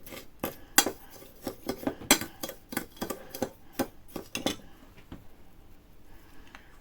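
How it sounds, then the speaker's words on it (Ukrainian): A salt curing mixture for red fish is stirred in a bowl, giving a series of sharp clinking and scraping knocks in an uneven rhythm. They come close together and fairly quiet, then thin out and stop near the end. "Все це добре перемішуємо"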